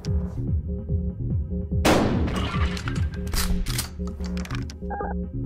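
A single heavy shotgun blast in Buckshot Roulette cracks out loudly over a steady, pulsing music bed, followed by a few sharper mechanical clicks and clacks.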